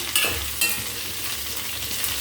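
Taro root (seppa kizhangu) frying in a pan, giving a steady, close hiss of oil with a couple of brief utensil clinks near the start and no talking.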